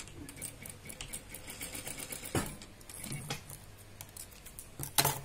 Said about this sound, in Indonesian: Setelah dari outer kita langsung jahit bagian inner.